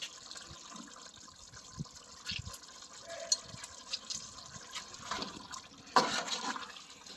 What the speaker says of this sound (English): I've added in some hot water.